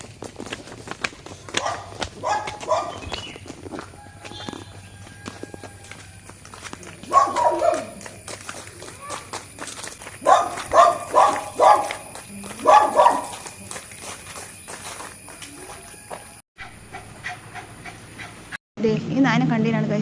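A dog pants and gives occasional barks during an evening outing in nature, heard at moderate distance amid outdoor ambience and people talking nearby.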